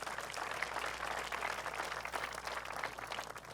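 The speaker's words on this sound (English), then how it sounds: "Let's give them a round of applause, if you wouldn't mind." An audience at a 2021 State of the City address applauds the city's DPS team, a steady wash of clapping at moderate, fairly distant level throughout with no one speaking.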